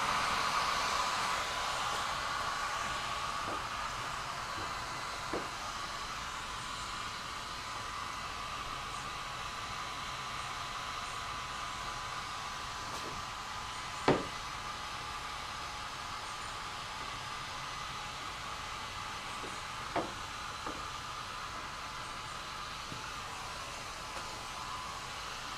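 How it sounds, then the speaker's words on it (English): A hair dryer set to low blows warm air onto a freshly applied Husky Shield truck bed liner on a Trailblazer SS, a steady unbroken whoosh with two sharp clicks or knocks standing out. "take a hair dryer, put it to low, and you can sort of speed up the drying process"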